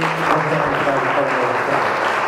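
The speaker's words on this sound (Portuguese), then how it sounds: "vamos aplaudir a Ele com alegria" A church congregation applauds joyfully in a dense, continuous wash of clapping that fills the space throughout.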